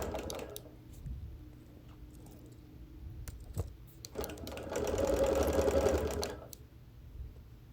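A sewing machine quilts around the perimeter of patchwork piecing, its needle running in a fast steady rattle that swells louder midway, with softer intermittent stitching and pauses before and after.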